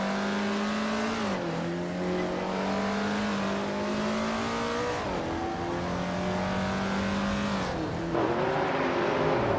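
Vintage street cars race on the Autumn Ring Mini circuit in a racing video game, a steady loud engine drone rising and falling with gear shifts and acceleration, near and continuous without talk.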